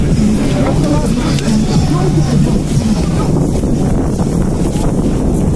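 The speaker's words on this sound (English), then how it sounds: "Really windy" Heavy, constant wind buffets the microphone with loud low rumbling while walking up a corridor at a street protest in Toronto, with indistinct voices and crowd noise underneath.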